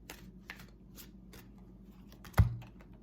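Oracle cards being shuffled and handled, soft papery riffles and flicks throughout, ending in one sharper slap of the deck, quiet and close with no talking.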